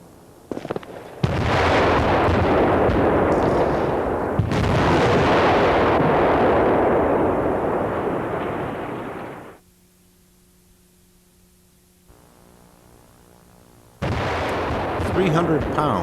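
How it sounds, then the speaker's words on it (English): Cutting charges detonate to bring down a tall tower, a loud prolonged explosive roar and rumble that fades after several seconds, followed by near silence with a faint tone and then another burst of rumbling noise. "cutting charges were detonated."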